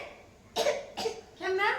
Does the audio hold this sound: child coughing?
yes